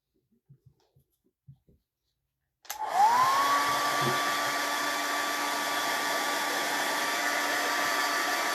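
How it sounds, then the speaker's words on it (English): A few quiet taps, then a hair dryer switches on and blows with a steady, loud whirring hum that continues to the end. "I am using a blow dryer, so it's a little noisy"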